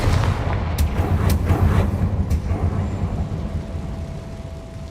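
A Confringo spell blast in the video game Hogwarts Legacy: a heavy, rumbling boom with sharp cracking bursts early on, then a long low roar that slowly fades.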